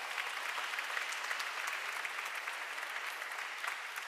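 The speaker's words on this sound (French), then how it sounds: "On l'applaudit très fort." Steady applause from a crowd fills a reverberant church during Sunday Mass, many hands clapping continuously at a moderate, slightly distant level.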